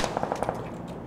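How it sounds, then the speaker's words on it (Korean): Gunfire in a video game, a rapid burst of about six sharp automatic shots followed by a fading tail, fairly faint and with no voices over it. "내 앞에 총소리."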